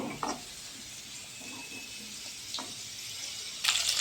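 Spices tipped into a pan of potatoes fried deep red for a fish curry hiss in a steady, even sizzle, with a few soft stirring knocks and a louder burst of crackle near the end.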